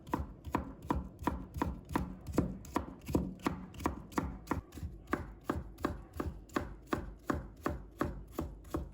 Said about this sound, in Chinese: 再准备1条苗条的青瓜，把它切成薄片， 再切成细丝。